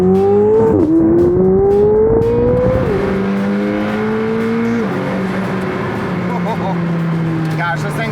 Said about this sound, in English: You sit there just enjoying the sounds of the revs